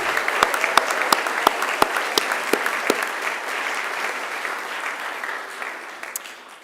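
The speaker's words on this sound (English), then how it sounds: "give yourselves a resounding round of applause because you deserve it" Graduates at a Macquarie University graduation ceremony clap for themselves in a large hall, a broad wash of applause with sharper individual claps near the front, holding steady for several seconds before slowly thinning out.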